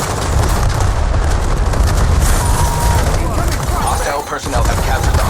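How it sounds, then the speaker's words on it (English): An EMP grenade goes off in the multiplayer video game Call of Duty Black Ops 7, a dense, loud rumbling burst amid continuous game noise and gunfire, with voices calling out over the din. "Heads up. EMP grenade."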